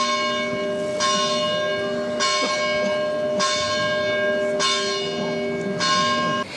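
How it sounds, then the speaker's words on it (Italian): Church bells toll at a funeral as the coffin is carried out, five loud, evenly spaced strikes about a second apart, each ringing on with a long, resonant decay. "22 rintocchi di campane, tanti quanti i suoi anni accolgono l'uscita del feretro"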